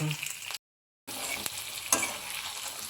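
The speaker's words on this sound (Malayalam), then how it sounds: "എണ്ണ ചൂടാക്കാൻ വെച്ചിട്ടുണ്ട്. ഇതിലേക്ക് പാടകളിട്ട് കൊടുക്കാം. നന്നായി മുരിച്ചെടുക്കാം." Jackfruit seed skins frying in hot oil make a steady, close, hissing sizzle that cuts out briefly to silence, then resumes with a few sharper pops.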